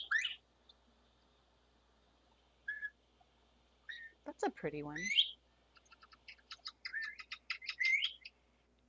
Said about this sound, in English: And I think I have a sound of the bobwhite